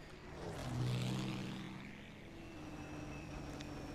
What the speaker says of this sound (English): there's a British bomber in the air